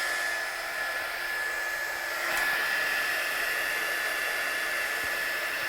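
A heat tool blows steadily over wet watercolour on a card, a constant loud airy whoosh lasting several seconds with no talking.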